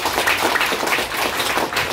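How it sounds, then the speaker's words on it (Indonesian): An audience at a parish youth gathering claps together in dense, sustained applause, loud and even throughout the short burst with no voices over it. "Beri aplaus dulu."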